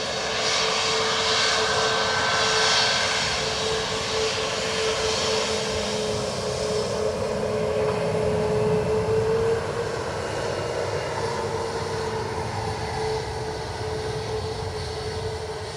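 An Airbus A330 from Seattle landing at Dublin Airport, its loud continuous jet roar with a sustained whining tone, strongest early and slowly easing off over the clip.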